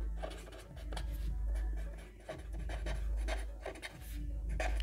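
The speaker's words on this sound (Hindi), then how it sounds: "सबसे पहले मैं इसका डेफिनेशन लिखता हूँ" Chalk or a marker writing on a classroom board, up close, with a run of scratchy strokes and taps over a steady low hum, no talk.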